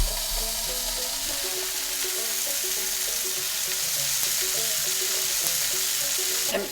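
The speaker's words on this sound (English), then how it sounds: "But first I'm gonna fry that bologna up." Slices of bologna fry in a pan with a steady, loud, broadband sizzle that holds evenly throughout, with no talking.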